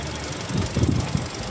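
A 2021 Toyota Innova G petrol engine running close by, giving a short burst of rough mechanical revving with a squealing edge over a steady low hum.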